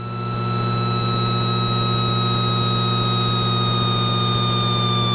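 Steady drone of a Beechcraft Bonanza's piston engine and propeller on landing approach with one notch of flaps, a constant loud hum with high tonal whine throughout, no talking.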